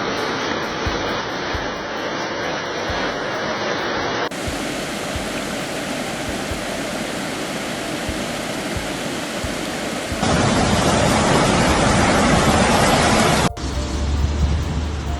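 Heavy rain and rushing floodwater during a flash flood in the UAE, around Abu Dhabi, a loud continuous broadband roar of water that shifts in character across several cuts, with no talking.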